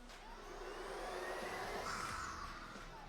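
Miele Triflex HX2 Pro cordless vacuum cleaner running steadily, a smooth whirring hiss with airy high whine, moderately close and alone.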